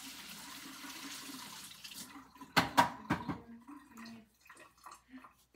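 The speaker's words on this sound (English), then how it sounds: "Gonna rinse off my hands." Tap water runs and splashes into a kitchen sink during hand rinsing, a steady hiss for about two seconds, followed by a few sharp splashy knocks and faint trailing drips.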